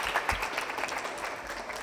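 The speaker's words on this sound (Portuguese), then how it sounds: "Uma salva de palmas pra eles." A young studio audience at a TV talk show breaks into brief, dense applause, a quick wash of clapping that lasts under two seconds.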